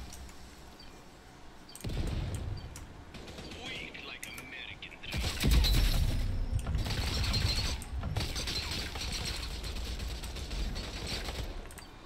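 A bomb is disarmed in the Rogue Company shooter game, with clicking mechanical ratchet sounds mixed with bursts of gunfire and louder impacts partway through, against a busy background of game noise.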